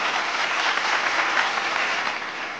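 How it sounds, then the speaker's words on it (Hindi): A crowd at a state awards ceremony gives loud, sustained applause, a dense continuous roar of clapping that tapers slightly at the end. "जोरदार तालियां everybody."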